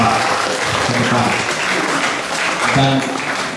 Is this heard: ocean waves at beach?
no